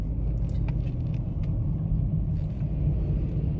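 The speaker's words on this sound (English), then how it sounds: "that truck literally almost hit me" A truck passing very close, a loud, steady low engine and road rumble that fills the whole moment with no voices over it.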